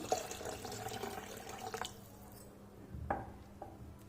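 Water splashes and trickles into a cooking pot of lentils for a drumstick-leaf sambar, up close, fading after a couple of seconds, followed by a few faint drips and clinks.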